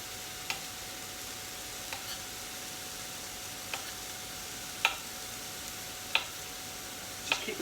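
Onions and leek fry softly in a pan, a faint continuous hiss with a few sharp ticks and pops scattered every second or so.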